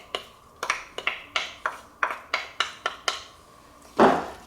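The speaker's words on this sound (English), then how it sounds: "we just take this and we stir it in" Vegetables — broccoli, cauliflower and carrots — being stirred with a garlic, herb and olive oil dressing in a mixing bowl, giving about a dozen sharp clinks and scrapes in an uneven rhythm, close and fairly loud, ending in a louder rustling scrape.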